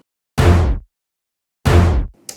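A sampled Nexus accent hit, chopped short and pitched down, lands twice as punchy, loud thuds about a second apart. Each stops abruptly after about half a second, and a faint, short blip follows at the end.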